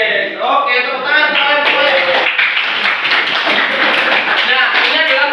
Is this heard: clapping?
yes